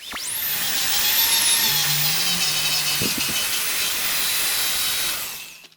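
Electric drill fitted with a polishing pad buffing a car headlight lens, a steady high whine with broad hiss that holds for several seconds, then winds down at the end; close and loud, no voices.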